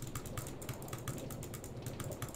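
Rapid mouse or key clicking at a computer while playing Minecraft, quick repeated light clicks in an irregular stream, fairly close but quiet, with no talking.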